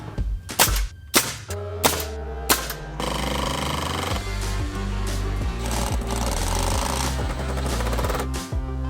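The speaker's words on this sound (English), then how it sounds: "Framing nailer." A framing nailer fires nails during a propane gas line installation: four loud, sharp bangs spaced about half a second apart, followed by a steady mechanical drone with faint knocks.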